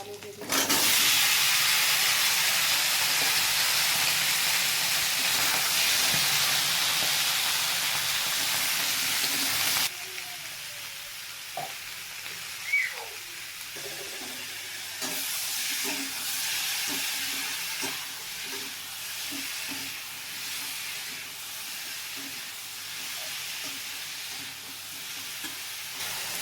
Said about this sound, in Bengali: কালো জিরা, গোটা জিরা ফোড়ন দিয়েছি, আর এদিকে পেঁয়াজ একসঙ্গে দেবো।